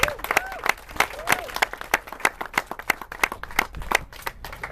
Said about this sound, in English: big round of applause for Tommy